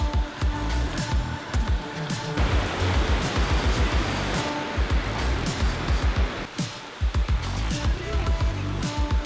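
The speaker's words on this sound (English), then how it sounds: "Now that we enjoyed waterfall from the bottom, it's time we enjoy it from the top." A waterfall in Pennsylvania in May, heard from the bottom, gives a steady, close, broadband roar of falling water that runs through the whole stretch, with low thumps and brief voice-like sounds now and then.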